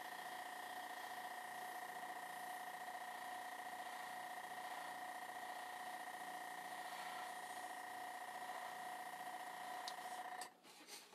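Airbrush spraying paint onto a mask, a steady hissing whir held evenly and close for about ten seconds before cutting off with a few brief clicks.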